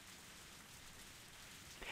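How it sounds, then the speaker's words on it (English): Steady rain pattering on a rooftop in the Higurashi video game, a soft continuous hiss of drops with no talk, rising slightly at the very end. "I heard the sound of rain pattering on the rooftop and the raindrops jumping into puddles."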